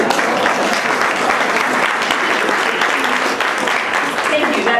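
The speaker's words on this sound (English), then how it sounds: "That always gets a round of applause" Warm audience applause at a women's day event, a full, even burst of many people clapping that continues loudly throughout, with speech mixed in.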